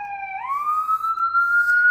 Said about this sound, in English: We had a fire engine go down by